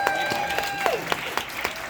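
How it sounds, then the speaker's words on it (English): Audience applause at the El Capitan Theatre in Hollywood for the Walt Disney Archives, a steady wash of clapping with a few sharper claps standing out, alongside faint tonal music or feedback lines and a little voice. "Let's give them a big round of applause."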